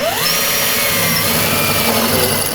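Close, loud whine of a power drill biting into a wall for a toggle bolt to mount a microwave, the motor pitch rising briefly then holding a steady grinding drone throughout.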